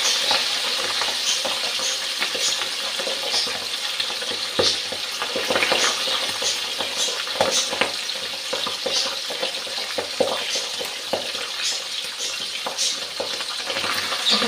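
Pabda fish fry in hot oil in a pan, a steady close sizzle and crackle with scattered sharp pops and spatters running throughout, no voices.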